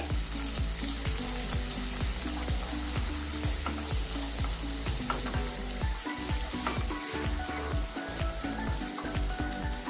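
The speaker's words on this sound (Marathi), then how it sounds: "हा कांदा बारीक आपल्याला टाकून घ्यायचा आणि एकदम व्यवस्थित परतून घ्यायचा आहे त्याला, म्हणजे तो छानपैकी लालसर कलर येईपर्यंत" Finely chopped onion sautés in a pan until reddish, a loud continuous sizzle of frying with regular scraping stirs from a spoon, no voices.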